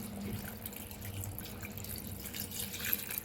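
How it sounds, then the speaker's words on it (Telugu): A small glass of water is poured into a pot of mutton curry, making a faint, steady trickle and splash that runs the whole time without a break. "అందుకే మనం ఒక చిన్న గ్లాసు వాటర్ అనేది మనం పోసుకున్నామండి."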